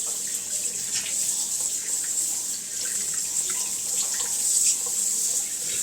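Running water rinses a freshly processed, plucked quail, a continuous close hiss and splash of a stream flowing over the carcass, steady throughout with no talk.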